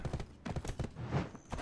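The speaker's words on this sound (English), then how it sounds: "It's a pretty horse" A horse trots in the online role-playing game Black Desert Online, its hooves clip-clopping in a quick, even rhythm at a moderate, fairly quiet level.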